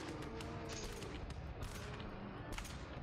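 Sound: shotgun fire in GTFO video game

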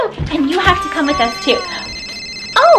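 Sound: phone ringing

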